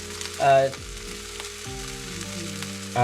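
Curry powder, about a tablespoon, fried and stirred in a hot pan, giving a steady close sizzle with scraping stir strokes and a louder burst early on.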